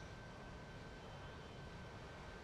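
A Harrier jet's engine running in the DCS flight simulator game, a steady, even roar that holds at constant loudness throughout with no voices over it.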